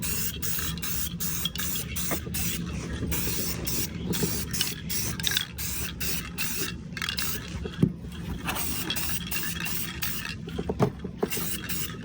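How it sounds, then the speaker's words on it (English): Repeated short bursts of hissing spray from a spray paint can, close by, coating a repaired HDPE garden tractor gas tank, in an irregular rhythm of quick pulses over steady background noise. "apply a regular spray paint to give it that extra UV resistance"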